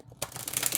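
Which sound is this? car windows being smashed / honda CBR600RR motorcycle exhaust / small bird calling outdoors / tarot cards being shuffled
tarot cards being shuffled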